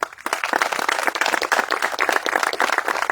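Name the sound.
applause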